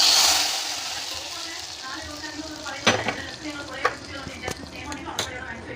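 Steady sizzling of coconut, cashews and raisins frying in a pan, with occasional metal clinks and scrapes of a spoon stirring.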